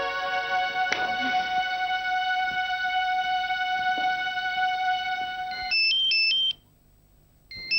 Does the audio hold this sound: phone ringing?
yes